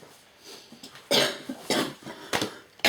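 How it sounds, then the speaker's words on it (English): A person coughs several times in short, harsh bursts close by, with uneven gaps between them, during a casual knitting chat. "I still have some of that cough"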